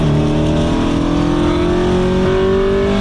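An Acura Integra engine revs hard and climbs steadily toward its VTEC range around 6,000 RPM, a loud, continuous rising wail heard close with no talking.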